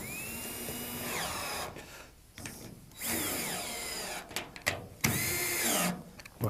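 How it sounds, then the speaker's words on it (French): Cordless electric screwdriver tightening bolts on the wall panels of a Waterair above-ground pool during assembly, giving several loud whirring bursts with rising and falling pitch, separated by short pauses and clicks. "je vous conseille évidemment la visseuse électrique, enfin la visseuse sans fil"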